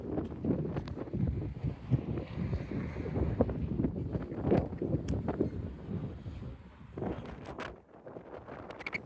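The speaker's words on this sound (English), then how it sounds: "it was very windy" Strong gusting wind buffets an outdoor microphone in an open area on a walk to a school, a continuous loud rumbling roar that swells and dips throughout.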